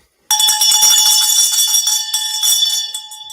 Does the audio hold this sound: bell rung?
yes